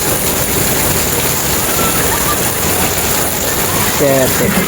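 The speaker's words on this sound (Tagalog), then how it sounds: "Ulan-ulan talaga, ulan-ulan." Heavy monsoon rain pours down in a dense, continuous hiss that fills the scene without pause.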